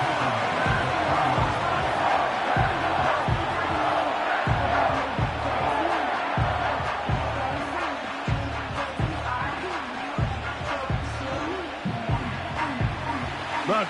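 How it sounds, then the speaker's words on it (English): Crowd noise in a Madden football video game during a goal-line play, a roaring stadium bed with rhythmic thumping beats under a commentator's voice. "The crowd making their presence felt."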